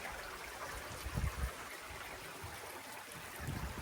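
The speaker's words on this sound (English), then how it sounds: "That is our Raging Creek down." Creek flowing beside a campsite on the Appalachian Trail, a steady close rush and trickle of water with a few low gurgles.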